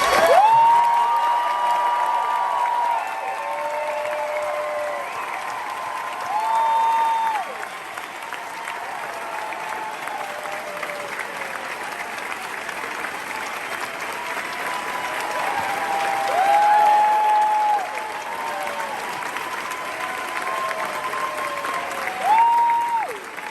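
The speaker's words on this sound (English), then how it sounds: "Can you put your hands together and cheer one more time for the people who originally inspired this?" At the Broadway closing show of Come From Away, a theatre audience applauds without a break, a dense and loud wash of clapping that swells several times, with whistles and cheers rising above it.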